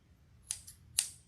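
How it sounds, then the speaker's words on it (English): Scissors snip deco mesh while a wreath is being made, with two short, crisp cuts about half a second apart, close and fairly quiet, and no talking. "there's something sticky on my scissors"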